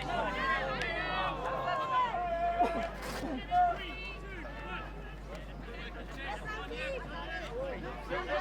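Crowd murmur and scattered voices at a mixed ultimate frisbee pool-play match between France and Great Britain, a steady far-off hubbub with occasional louder shouts, continuous throughout.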